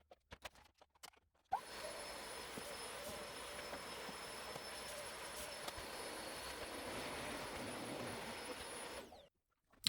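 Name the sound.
Hoover vacuum cleaner running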